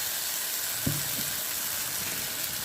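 Mustard seeds and dried red chillies hit hot oil in a pan, giving a continuous bright sizzle with a few faint pops, heard close and alone.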